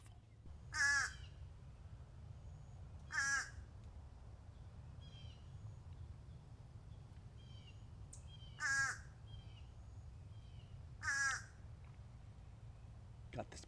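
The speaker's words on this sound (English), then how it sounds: "I hear the birds. I hear the stream." Crows caw in a quiet creekside spot in west Florida: four distinct harsh calls spaced a few seconds apart, fairly close, over a steady low rumble of flowing water and distant traffic.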